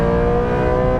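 A Ferrari 430 Scuderia Challenge Stradale engine revs hard and loud, a dense, steady high-pitched howl sustained through the whole brief burst with no voices.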